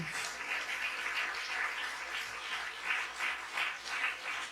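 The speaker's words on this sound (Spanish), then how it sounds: "Denle un aplauso a la gloria de Dios" A church congregation breaks into sustained applause, a dense hiss of many hands clapping with slow, swelling surges, heard from some distance in a reverberant room.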